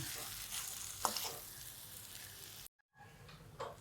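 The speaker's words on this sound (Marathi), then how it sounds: "परतून घ्यायची भाजी चांगली" Mashed potato paratha filling is sautéed in a pan with a quiet steady sizzle and stirring scrapes, a brief gap of silence, then the frying resumes.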